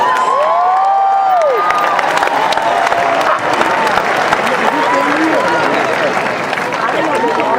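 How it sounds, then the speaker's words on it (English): Large crowd applauding and cheering for graduates at a 2019 Ithaca College graduation ceremony, sustained loud clapping with whoops and shouts throughout. "let's give the graduates of H&S a round of applause"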